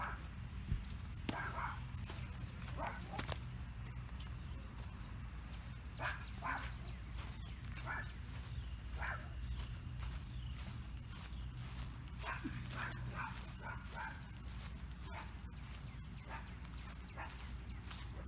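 Several dogs bark repeatedly at a distance in an outdoor backyard garden, short yips and bow-wows scattered over steady low background noise.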